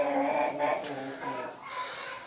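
Farm chickens cluck nearby in a coop, a short burst of soft, uneven calls heard alone at moderate volume.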